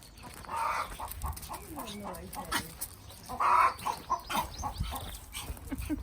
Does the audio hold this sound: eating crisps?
no